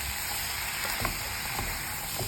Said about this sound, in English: So that it will get a little bit of tempering in the oil.